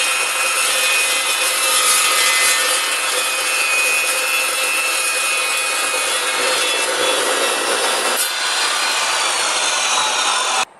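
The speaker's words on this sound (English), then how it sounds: "And I'm going to cut another one in this angle iron." An Evolution EVOSAW380 saw cuts through steel angle iron with a loud, continuous high-pitched metallic grinding screech that holds steady, shifts near the end, then stops abruptly.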